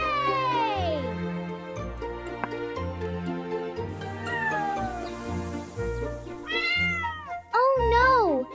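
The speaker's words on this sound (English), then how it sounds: "Oh no! The kitty is stuck!" A toy-style animated cat meows several times, with rising and falling cries over cheerful background music and jingling, fairly loud and close, the last meow sharp and strained as if the kitty is stuck.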